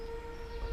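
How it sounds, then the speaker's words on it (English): A distant steam train sounds in the background near an abandoned asphalt works in Derbyshire, a steady whistle-like tone holding under outdoor rumble throughout. "That thing, that noise you can hear in the background, it's not somebody's bottom. It's a steam train."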